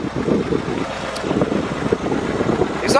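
A 1984 Pontiac Fiero's low, rumbling engine idles steadily with a rough exhaust note, mixed with wind buffeting the microphone outdoors.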